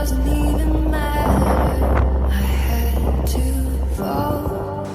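Strong wind rumbling against the microphone throughout on the Irish coast, loud and constant, with faint tonal sounds in the background.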